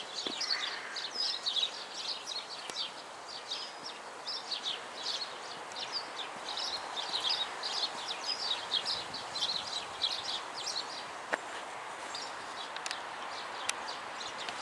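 Birds chirp and sing repeatedly in short bursts, moderately distant, over a soft background hiss with an occasional click.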